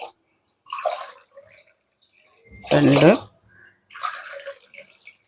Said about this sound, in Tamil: இப்போ கரெக்டான அளவுக்கு தண்ணி வச்சுருக்கு